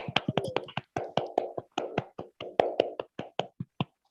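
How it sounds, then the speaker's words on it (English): Clapping from unmuted participants in an online live stream, a small number of close, distinct hand claps heard as sharp separate slaps in an uneven rhythm, dry and loud, then thinning out toward the end. "Let's give a huge round of applause for our Mukil."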